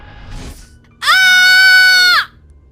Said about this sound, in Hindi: इतने में जूली चिल्लाती है